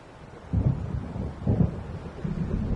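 Thunder from an approaching storm in the video game Alan Wake: three low, rolling rumbles about a second apart over a bed of windy noise, with no voices.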